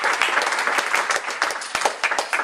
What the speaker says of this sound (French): applaudissez-la très très fort